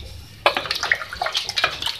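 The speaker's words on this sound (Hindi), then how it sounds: "तो अब मैं इसमें 3 गिलास पानी ऐड करूंगी।" Water is poured from a glass into a pot of beef and potatoes for a beef aloo handi, a sudden close splash followed by uneven gurgling and sloshing that lasts about a second and a half.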